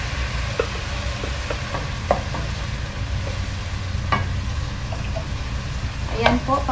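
Onion and garlic sizzle and fry in a pan with a steady crackling hiss, broken by occasional scrapes and clicks of stirring, close and fairly loud.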